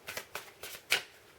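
Tarot cards riffle-shuffled in four quick bursts, each a crisp papery flutter, the last one loudest, close up in a quiet room.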